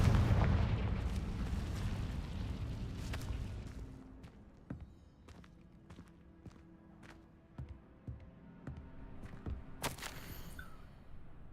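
Confringo explosion spell cast in the Hogwarts Legacy video game: a heavy rumbling blast fading out over several seconds, followed by scattered sharp cracks and thumps and a bright burst near the end, with no speech.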